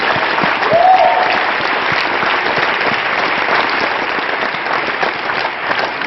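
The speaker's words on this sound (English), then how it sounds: "Clap your hands if you believe that." A church congregation at a winter youth convention crusade in Toronto claps hands in a loud, dense, sustained burst of applause that holds steady for about six seconds.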